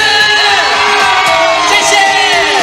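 A dense, loud crowd at an outdoor evening concert screams and cheers continuously, whoops and shouts blending into a steady roar with music faintly underneath.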